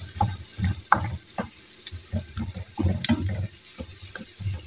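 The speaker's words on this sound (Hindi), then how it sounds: "इनको फ्राई कर लेती हूँ" Spices frying in a pan for a baingan masala paste, with intermittent sizzling bursts and scraping stir strokes, close and moderately quiet.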